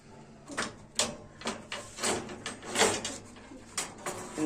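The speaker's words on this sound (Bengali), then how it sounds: "সব থেকে সুইট পায়রা আমার।" A pet pigeon coos nearby in soft, repeated rolling bursts, several in quick succession, with faint background noise.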